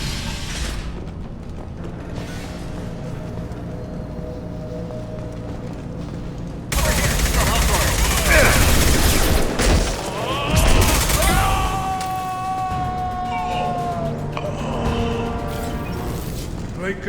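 Gunfire on Omega in Mass Effect 2, where Blue Suns mercenaries and Vorcha shoot at anything: a low mechanical hum gives way to dense, loud bursts of rattling weapon fire mixed with whirring tones and faint game voices.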